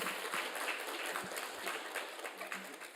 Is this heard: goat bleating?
no